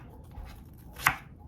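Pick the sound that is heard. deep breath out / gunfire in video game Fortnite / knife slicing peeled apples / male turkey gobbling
knife slicing peeled apples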